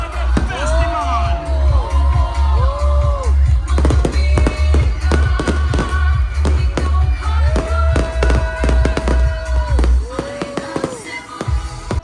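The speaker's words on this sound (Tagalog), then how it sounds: "Let us take first a moment to enjoy the fireworks display" Fireworks display at the 26th Dinagat Festival, with repeated sharp bangs and crackling bursts, booming low thumps underneath, and a crowd cheering and talking throughout.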